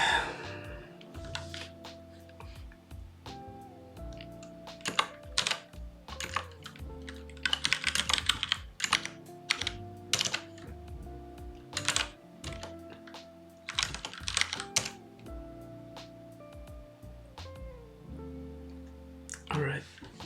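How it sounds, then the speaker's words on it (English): Close, busy clatter of fingers typing on a computer keyboard, fast irregular bursts of key clicks with short pauses and a few heavier thunks from a struggling keyboard, over a low steady hum. "Oh, come on, this damn keyboard."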